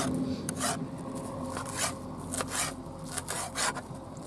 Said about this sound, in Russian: Режем петрушечку, такую зелень, чтобы добавить